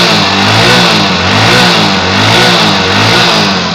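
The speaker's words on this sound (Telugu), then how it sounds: "మనకి బండి స్టార్ట్ చేసి ఇక్కడ చూడండి నేను యాక్సిలరేటర్ ఇస్తున్నాను అన్నమాట." A BS6 motorbike engine revving as the throttle is opened, heard close and loud with a continuous throaty drone that surges and wavers slightly over a few seconds, no voices.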